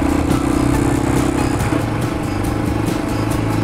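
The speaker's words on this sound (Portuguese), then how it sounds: "Vocês estão ouvindo o barulho do motor?" A motorcycle engine idling close by, a loud, steady throbbing rumble with a faint rattle.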